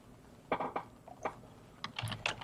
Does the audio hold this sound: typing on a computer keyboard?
yes